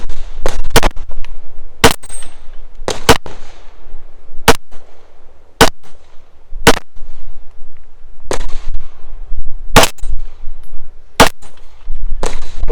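Pistol shots from a Glock 17 Gen 1 on an outdoor shooting stage crack out loud and close, about fifteen sharp reports in irregular bursts, some as quick double taps, separated by pauses.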